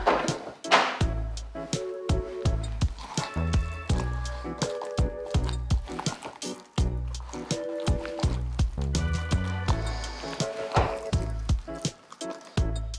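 Blended chickpea and tomato hummus stirred in a blender or bowl, giving close, wet squelching and thick liquid slaps in irregular bursts, with brief clattering knocks throughout.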